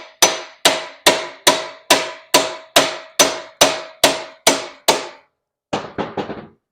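A hammer taps the axle nut to loosen the worn stock wheel on a Knucklehead motorcycle, giving about eleven sharp, evenly spaced metallic strikes, then a pause and a quick burst of four or five lighter taps.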